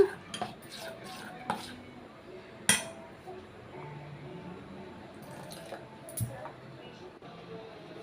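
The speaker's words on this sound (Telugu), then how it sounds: "ఇలా శుభ్రంగా కలుపుకోవాలి ఉండలు లేకుండా శుభ్రంగా" Bajji batter for sarakanda (elephant yam) fritters being mixed in a bowl, with scattered clinks and taps of a utensil against the bowl and soft wet stirring, close by and fairly quiet.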